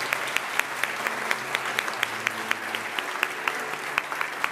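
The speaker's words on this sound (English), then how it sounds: "Let's give our master's candidates a great round of applause." Applause at a university commencement ceremony for master's degree candidates: a large audience claps steadily, with sharp individual claps rising above a broad wash of sound.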